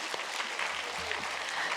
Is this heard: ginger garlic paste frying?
no